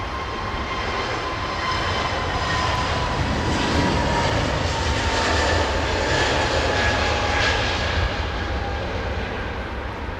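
An Airbus jet airliner with CFM LEAP engines passing nearby, a loud sustained roar of engine noise with a faint tonal whine, swelling slightly in the middle and holding steady to the end.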